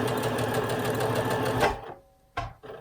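A Baby Lock Lyric sewing machine runs a steady, loud stitching burst that stops abruptly, followed by brief clicks and a short second burst as it reverses direction to lock the seam.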